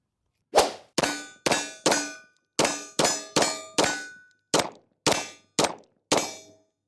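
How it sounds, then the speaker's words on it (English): Eleven sharp metallic clangs ring out from a steel silhouette target struck during fast fire from a Beretta 92D pistol, each hit followed by a short decaying ring, in quick uneven succession with no talking. "Let's do some fast firing on the human silhouette."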